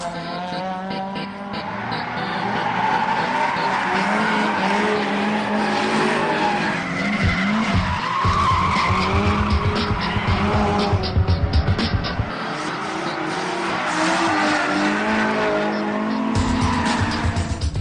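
Many cars drift around a tight Japanese race track full of chicanes and hairpin switchbacks, with a continuous loud roar of engines and layered, sustained tire squeal from start to finish and no voices.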